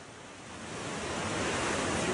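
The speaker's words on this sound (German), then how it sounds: "sehe ich zum ersten Mal solche Wellen. Riesenwellen." Large ocean waves on Tofua island crash as a broad, continuous roar of surf that swells steadily louder, with no voices.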